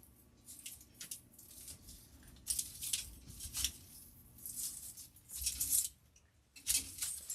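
Greenery stems are snipped for a boho-style Christmas wreath, a series of crisp, close cuts and rustles of leaves spaced irregularly, some louder than others.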